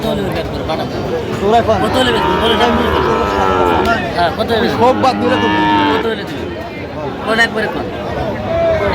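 Cattle, including Sahiwal bulls and calves, moo repeatedly and loudly at a Dhaka cattle market, several animals overlapping, with a murmur of people talking in the background throughout.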